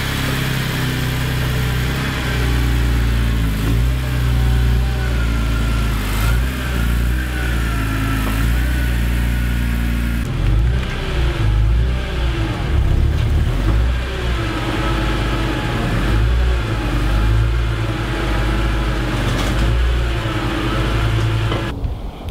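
A BMW E46 M3 race car engine idling and moving slowly while backing into place, a loud, rough, close mid-pitched idle with light blips and small shifts in tone, continuous and without talk.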